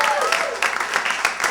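A stand-up comedy audience applauds and cheers in a club, a dense wash of clapping with crowd noise and a whistle, while a voice carries faintly over it.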